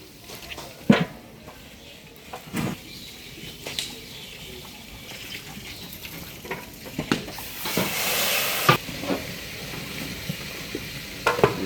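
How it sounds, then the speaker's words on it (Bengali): Chicken frying in a pan for roast in a busy cooking setting, a low sizzle with intermittent stirring clacks and splashy bursts, moderately close. "এই পাশটায় ভাজা হচ্ছে।"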